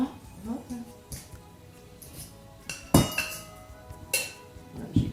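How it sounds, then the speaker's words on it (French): A fork scrapes and clinks against a bowl while mashing butter into water for quiche pastry, giving a few sharp metallic taps spread over several seconds against a quiet kitchen background. "j'ai bien écrasé mon beurre dans mon eau"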